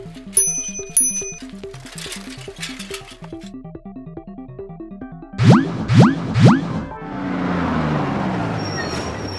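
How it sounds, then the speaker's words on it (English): A bicycle bell rings three quick, bright times in succession, loud and close, after a stretch of rhythmic mechanical clicking and before a broad wash of traffic-like noise. "bicycle"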